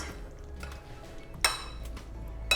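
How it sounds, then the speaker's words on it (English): A spoon stirs a pineapple-coconut flavored mixture into a bowl of yogurt (dahi), making soft scraping with two sharp clinks against the bowl, close up and with no talking. "So I'll put this mixture generously in our yogurt or dahi. Mix it."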